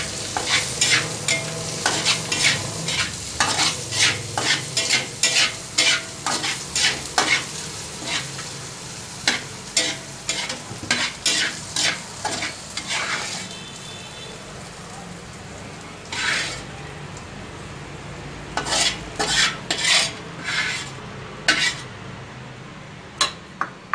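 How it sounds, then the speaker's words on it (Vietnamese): Sliced onions sizzle and fry in a pan while a utensil scrapes and clinks repeatedly against it in irregular bursts, steady frying underneath throughout. "Tôi cho một ít hành vô."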